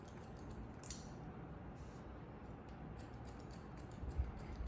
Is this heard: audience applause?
no